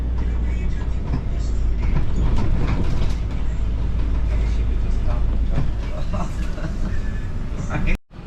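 A metro train rumbles and rattles steadily at a metro station in Europe, loud and close, while people talk over it; it ends with a brief sharp cut.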